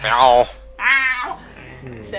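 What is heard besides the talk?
cat meowing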